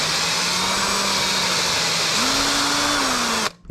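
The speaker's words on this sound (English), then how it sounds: "you probably didn't hear what I was saying because the drill was going" A power drill runs continuously while boring a hole for a homemade underspin fishing lure, a steady whine that steps up in pitch partway through before cutting off abruptly at the end.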